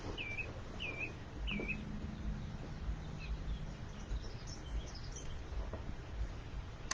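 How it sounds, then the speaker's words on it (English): Recorded nature bird sounds play faintly behind a steady low background hum, with a few short chirping calls repeating early on and softer twittering later. "I do have bird sounds going on"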